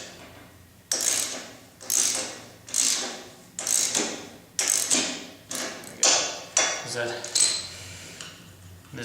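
Ratchet wrench snugging bolts while installing a Chamberlain garage door opener, heard as a steady series of about nine close, loud metallic clicking strokes in a regular rhythm.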